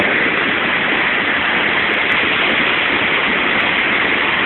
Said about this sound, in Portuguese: Estamos atrás da cachoeira.